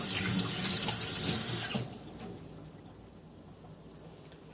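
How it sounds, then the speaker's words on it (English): A kitchen sink tap runs steadily as hands are washed, a close rushing splash that cuts off after about two seconds and leaves a low, quiet background. "Let me wash my hands."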